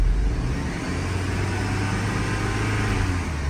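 A GMC Canyon with a power-reduced fault and an unlearned idle position runs as the gas pedal is pressed. The engine gives a steady, close drone that does not rise or rev in response.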